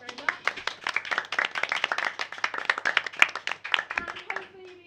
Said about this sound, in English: giving a round of applause to our ticketed players, our regular players, and our GM